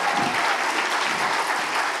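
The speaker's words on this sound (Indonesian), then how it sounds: "Ya tepuk tangan dulu dong buat Mbak Najwa Shihab" An audience at a talk with Najwa Shihab applauds her, a dense, even wash of clapping from many hands that fills the whole two seconds without any voice over it.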